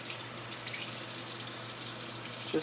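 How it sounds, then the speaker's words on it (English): Rocks rinsed under a running tap for an arboreal terrarium build, a steady rush of water splashing into a sink with a faint clack near the end, close and continuous with no talking. "Just rinse off maybe one more of these rocks."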